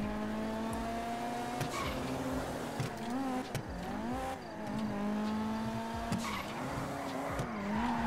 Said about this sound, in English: Look at him fucking drifting with a four-wheel drive car.